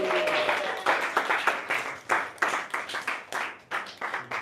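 A room of young people at a youth church service claps to welcome a speaker forward, a brisk burst of applause with uneven, overlapping hand claps that swell and taper across several seconds.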